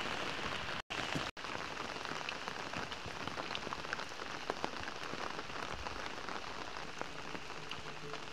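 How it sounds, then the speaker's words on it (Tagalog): Steady rain falls on surfaces at a rural home in the Philippines, a dense, even patter close by with scattered louder drops, briefly cut by two short dropouts near the start. "So dito sa amin madalas nang naulan."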